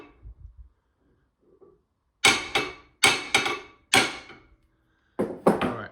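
A bead breaker part for 8-inch mini ATV rims is tapped toward a tack weld, producing about five sharp, ringing metal strikes spaced roughly a second apart, close and loud after a quiet start.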